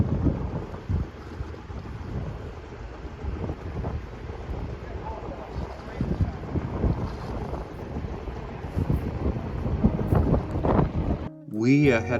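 A sailboat motors along the cliffs of Lake Superior, a steady low engine rumble mixed with wind buffeting and water wash, continuous and fairly loud throughout.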